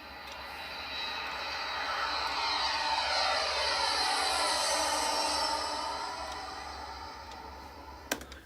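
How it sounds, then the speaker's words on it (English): A recorded jet sound effect swells from faint to a loud, broad roar and then fades away as it passes, with a short click near the end. "And that's your jet sound."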